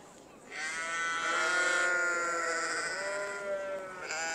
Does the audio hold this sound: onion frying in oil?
no